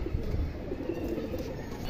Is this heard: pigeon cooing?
yes